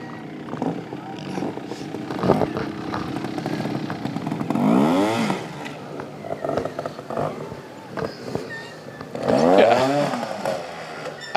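Two-stroke motorcycles revving in rising and falling bursts, with one louder surge near the middle and another toward the end, heard under people talking.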